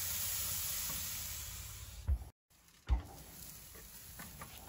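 Steaks sizzle on a grill in a steady, bright, close hiss that fills the clip, broken by a brief cutout and a couple of soft thumps.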